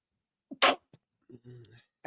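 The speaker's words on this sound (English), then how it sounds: "you probably heard the sneeze" A single sharp sneeze bursts out near the mic, loud and brief, followed by a faint breath and a short stretch of quiet voiced murmuring.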